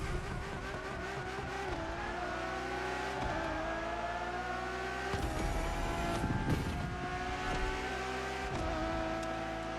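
Ferrari Enzo supercar engine revving hard, a loud, close, high-pitched wail rising and dropping through gear changes, with sharp shifts in pitch and a throaty roar throughout, no talking.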